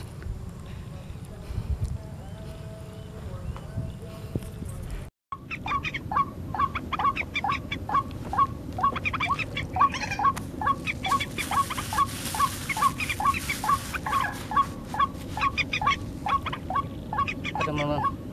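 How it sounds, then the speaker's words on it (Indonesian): Repeated bird calls of a mandar, a rail or swamphen, sound in a steady rapid series over outdoor background noise during an airgun hunting outing, fairly close and continuous after a brief cut. "ada burung mandar ya"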